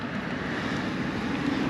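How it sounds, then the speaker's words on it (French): Strong wind buffeting a motorcycle-mounted microphone at speed on a highway, a continuous loud broadband roar and rumble with no break. "Donc on a beaucoup de vent aujourd'hui."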